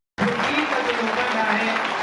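Audience clapping to welcome a guest at a silver jubilee and alumni meet; dense, loud applause starts abruptly and continues steadily without a break.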